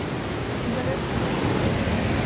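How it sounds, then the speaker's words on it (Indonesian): The Ciliwung River rushes beneath a bridge in a botanical garden, a loud, unbroken roar of flowing water that fills the whole moment without pause. "Untuk di bawahnya ini ada Sungai Ciliwung atau Kali Ciliwung."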